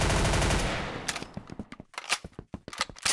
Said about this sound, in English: I just reloaded for like 8 bullets.